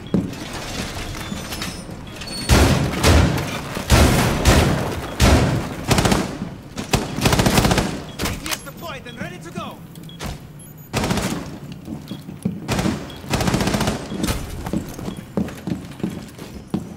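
Bursts of automatic gunfire from Rainbow Six Siege on the Oregon map in a team deathmatch bomb round, loud rapid volleys repeating in clusters with short gaps between them.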